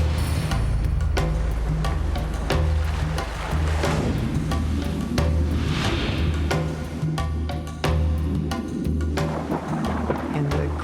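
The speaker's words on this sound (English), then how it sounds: "I was hearing waves breaking on something." Heavy, continuous roar of surf breaking on something out in the open ocean, loud and close, with deep rumbling low end and repeated crashing surges, no voices.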